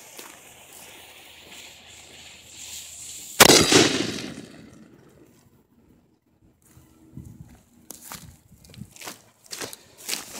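A billiard mortar launches a soda can trailing a short paracord streamer: one loud, sharp boom that decays over a second. Softer clattering knocks follow, which may be the can landing and handling sounds.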